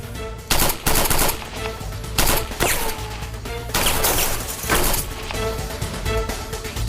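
Gunfire in a dramatic standoff scene: rapid bursts of shots crack loudly across the whole stretch, some clustered like automatic fire, over a dense, noisy background with no talking.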